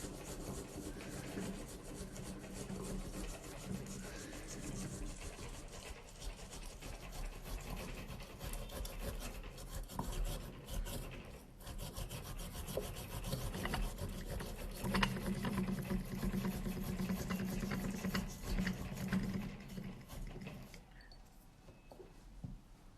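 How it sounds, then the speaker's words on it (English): Fresh ginger is rubbed against a grater in a kitchen, giving a long run of soft, steady rasping strokes that fade near the end. "the next step will be grating ginger juice"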